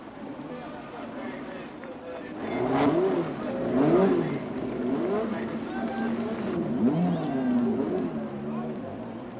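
Racing cars roar past at the 1969 Monaco Grand Prix, engines rising and falling in a loud, continuous drone with swelling passes, while a commentator talks over the racket throughout.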